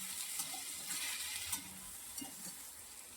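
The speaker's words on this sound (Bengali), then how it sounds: "আর এখানে করছে হচ্ছে আলু ভাজা।" Potatoes fry in a pan with a soft, steady sizzle and hiss, faint and continuous with a few light stirring knocks; no voices.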